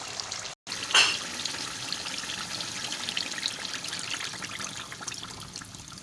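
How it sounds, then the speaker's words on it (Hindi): Broth pours into a pot of fried masala, a close, steady splashing trickle that starts after a brief gap and sizzles on continuously, with no voices. "अब हम इसमें शोरबा ऐड करेंगे।"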